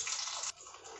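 Cumin seeds hit hot oil for gatte curry, a bright hissing sizzle that surges for half a second and then settles into a softer steady crackle, close and without voices.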